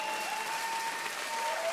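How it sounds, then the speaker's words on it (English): An audience at the Nintendo European Championships 2023 applauds the competing teams, a dense, continuous round of clapping with a faint tonal hum beneath it and no voices standing out. "please give both these teams once again another round of applause and a cheer"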